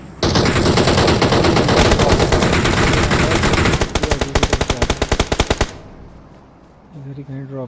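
Rapid automatic gunfire in the battle royale game BGMI comes in dense, loud bursts. A slower string of single shots follows, then a brief quiet and a softer sound at the end.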